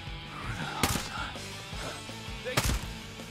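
Gunshots in the tactical shooter Ghost Recon Breakpoint, two sharp cracks about two seconds apart over a low game ambience.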